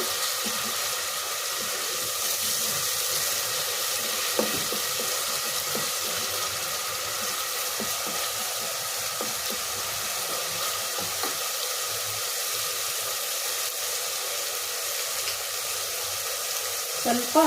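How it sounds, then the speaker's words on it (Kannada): Oil frying in a pan on the stove, a steady broadband sizzle with occasional stirring clinks, continuous and close. "ಎಣ್ಣೆ ಒಂದು ಎರಡು ಮೂರು ಸ್ಪೂನ್ ಹಾಕ್ರಿ ಇದು ಚೆನ್ನಾಗಿ ಸ್ಮೆಲ್ಲು ಹಸಿ ವಾಸನೆ ಹೋಗೋವರೆಗೂ ಉರಿಬೇಕು"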